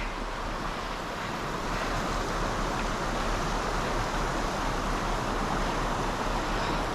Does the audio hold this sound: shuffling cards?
no